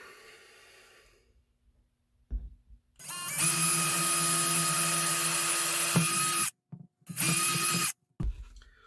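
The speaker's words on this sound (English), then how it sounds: "Got my DeWalt." A DeWalt power tool is used during wiring work on a 1968 Cadillac Deville build. Its motor whines loudly and close for a few seconds, stops, then runs again in a shorter burst.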